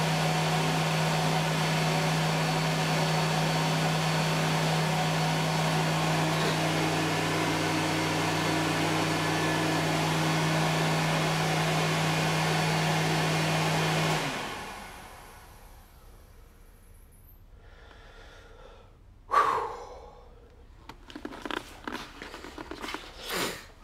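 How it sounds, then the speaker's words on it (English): A hand dryer blows with a loud, steady whirring roar for about fourteen seconds, then cuts off, leaving quiet with a few scattered knocks and bumps. "that's the hand dryer"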